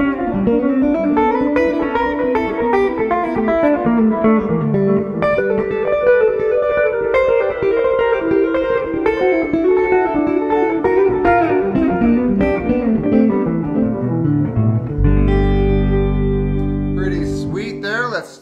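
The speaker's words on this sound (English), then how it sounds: "I'm gonna try out a simple slapback delay." An 8-string electric guitar is played through a TC Electronic Flashback slapback delay, chords and notes ringing loud and continuous with short echoes trailing each attack, then a sustained low chord fading out at the end.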